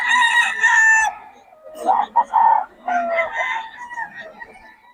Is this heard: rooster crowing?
yes